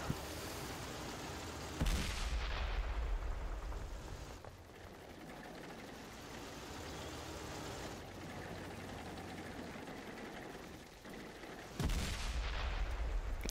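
Heavy cannon shots from a T-95 tank destroyer with a 155 mm gun in World of Tanks on Xbox 360: two loud booming blasts about ten seconds apart, with rumbling engine and battle noise in between.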